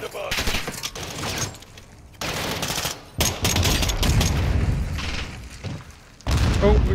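Grenade blasts and heavy gunfire from Modern Warfare II come in loud, dense bursts separated by short gaps, with voices faintly under the din.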